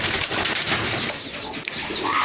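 Pigeons on a poultry farm coo softly amid a busy, rustling background, with low murmuring calls blending together at close range.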